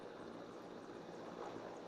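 A Mi-17 helicopter drones steadily overhead during a rescue operation in Deoghar, Jharkhand, with the rotor sound faint and distant and no speech.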